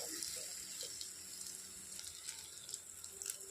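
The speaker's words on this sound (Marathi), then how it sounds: "झाल्यानंतर थोडं अर्धा ग्लास पाणी टाकायचं" Half a glass of water poured into a pan of paneer bhurji masala, giving a steady watery rush and sizzle with small splashy spikes, close and soft.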